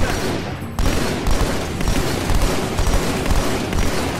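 Dense, continuous gunfire and booming shots from the Halo 2 video game during combat against a Phantom dropship, loud and close throughout with no talking.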